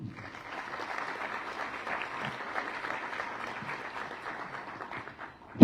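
Audience applause at a civic presentation in Cuenca, Ecuador, a steady moderate clapping from a seated crowd lasting several seconds, then a sudden loud burst at the very end.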